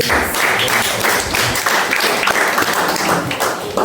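Dense applause fills a church service, steady and loud throughout with a few voices mixed in among the clapping crowd.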